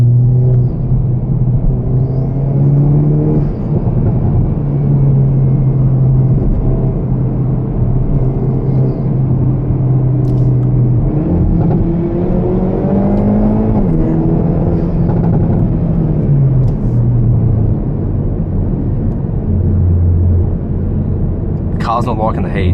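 A 2025 Hyundai i30 N cruises on a highway in hot weather, heard from inside the cabin as a constant low engine drone and road rumble with subtle shifts in engine pitch, while someone talks over it throughout.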